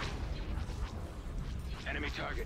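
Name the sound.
ion cannon fire in Star Wars space battle video game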